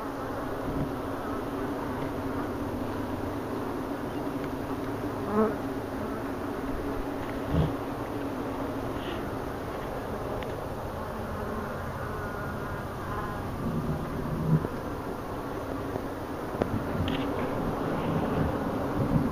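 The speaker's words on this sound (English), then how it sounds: "I've got enough not so happy bees. They're really pissed off bees." Agitated honey bees buzz continuously during a hive removal in Wellington, Florida, a dense, steady drone of many insects close to the microphone with occasional louder passes near it.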